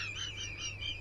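A frog gives a short burst of rapid, trilling croaks, close and fairly faint, with nothing else heard.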